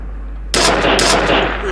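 Sudden burst of loud gunfire in the video game F.E.A.R., a dense rapid rattle starting abruptly and continuing without pause, close and harsh.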